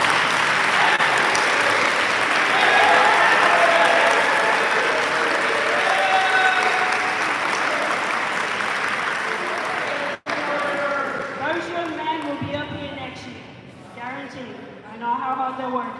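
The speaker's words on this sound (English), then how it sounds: "Give them a round of applause." Students at a sports awards ceremony get sustained applause from a gym crowd, loud and dense for about ten seconds, then thinning into scattered claps as a voice starts to speak over the dwindling noise.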